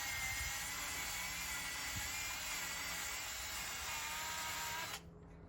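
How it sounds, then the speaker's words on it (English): A small mini chainsaw cuts through a section of a blue cedar bonsai trunk, a loud, steady high-pitched whine running close for about five seconds before stopping abruptly. "we use a little mini chainsaw and come across through here"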